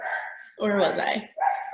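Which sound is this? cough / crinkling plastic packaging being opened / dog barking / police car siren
dog barking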